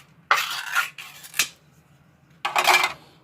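A can of hot and spicy Spam is cut open with a can opener, three short bursts of close metallic scraping and crunching separated by brief pauses, with a sharp clack in between.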